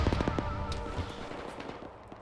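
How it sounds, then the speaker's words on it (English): A grenade explodes in the ARMA 3 military shooter game: a loud, close burst of blast and crackle that quickly tails off over about two seconds. "he's fucking lobbed a nade at me"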